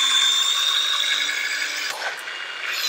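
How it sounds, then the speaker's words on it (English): A Milwaukee ProPex expansion tool works into PEX tubing with a steady high-pitched motor whine, a brief dip and clunk near the end, then the whir resumes. "You can hear the tool do a little more work as it gets further and further into the tubing."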